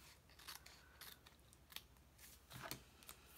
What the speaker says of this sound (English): I'm going to take my scissors on this one and just trim off that edge